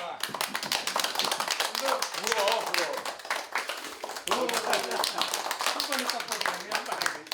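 A group in a Korean gathering claps in a busy, uneven burst with sharp hand strikes, while voices talk and laugh over the clapping throughout.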